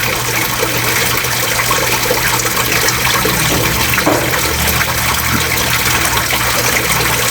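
Strong, steady rush of water pouring from a home faucet boosted by an added DIY air pressure pump, loud and continuous throughout with no voices.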